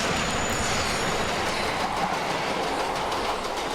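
A train passes close by, railroad cars rolling with a loud, continuous rumble and rhythmic clickety-clack of wheels over rail joints, steady throughout.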